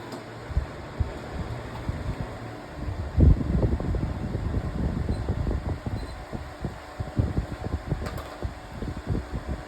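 A Wuzu electric fan runs steadily nearby, a constant low whooshing airflow with faint rattling, holding even for the whole stretch.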